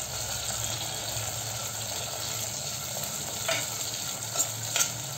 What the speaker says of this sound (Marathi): त्यामध्ये थोडे टोमॅटोच्या फोडी घालूया आणि त्याही छान आपण परतून घेऊया